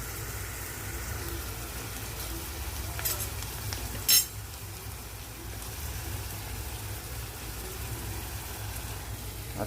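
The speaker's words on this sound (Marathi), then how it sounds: "आता हे आपला कांदा चांगला ब्राऊन होऊन देऊ, मग आपण त्यात टमाटर घालून घेऊ" Onion browning in a pan on a home stove gives a steady low sizzle, with a spoon occasionally stirring and one sharp metallic clink of a utensil against the pan midway, and no talking.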